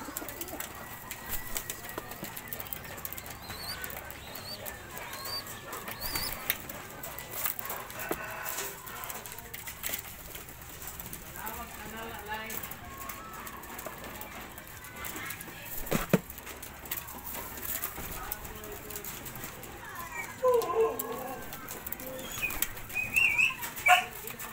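Pigeons repeatedly flapping their wings, with soft cooing, scattered patters and an occasional faint voice in the background.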